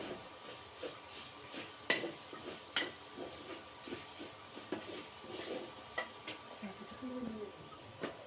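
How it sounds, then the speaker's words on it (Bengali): A sticky mixture of jaggery, grated coconut and sugar gets stirred in a pan, with a soft hiss underneath and irregular scraping knocks of the spoon, a few sharper clacks standing out. "এটা ভালোভাবে আমরা নেড়ে নিব।"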